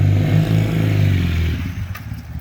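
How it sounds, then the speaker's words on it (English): A 1978 Honda CB400A Hondamatic automatic motorcycle with a shorter Corsa-style exhaust idles with a steady low rumbling throb up close, then the engine note drops away and fades toward quiet. "it sounds like a brand new motorcycle"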